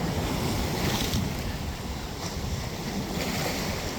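Ocean waves surge in on the beach with a loud, continuous rushing wash, and steady wind noise buffets the microphone close by.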